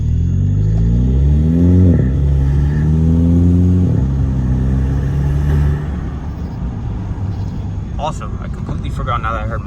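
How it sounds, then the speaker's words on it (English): Truck engine revving under throttle with the window down, rising and falling rev sweeps that are loud and close, then settling into a rumbling idle, with a voice talking near the end. "I'm gonna roll the window down, stop it completely, and give it a little bit of throttle."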